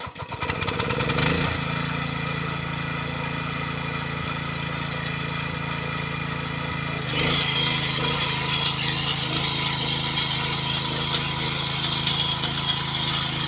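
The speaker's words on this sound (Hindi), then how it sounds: "ट्रैक्टर को स्टार्ट इस प्रकार से किया जाता है," A tractor engine on a hillside farm field starts with a rough burst, then settles into a steady, loud mechanical running drone that continues throughout.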